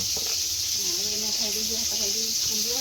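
A steady, close hiss of brinjal frying in a pan runs unbroken throughout, as a person talks over the sizzling.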